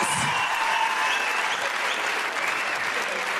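An audience at a comedy show claps steadily for a few seconds, dense and even, with a brief voice at the start.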